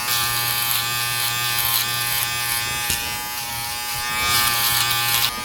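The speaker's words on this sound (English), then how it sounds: "Go ahead and use my Uno shaver first here at the bottom, the sides, then the cheek area." An Uno electric shaver trims a beard at the bottom, sides and cheeks, giving a close, steady buzzing hum. The pitch shifts slightly as the cutter presses against the hair, with a brief dip midway before the buzz resumes.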